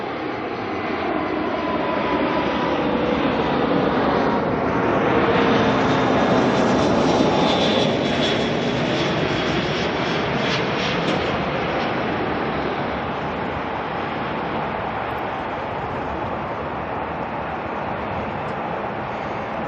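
A Jetstar Airbus A320 jet airliner arriving from Queenstown comes in to land at Auckland Airport at night, its engine roar and rushing jet noise building to a loud peak then easing into a steady sustained rumble, with no other sounds.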